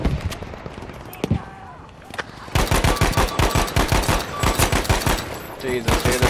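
Battlefield 5 gunfire: a few scattered shots at first, then a sustained rapid burst of loud, close automatic fire rattling in quick, even repetition for several seconds.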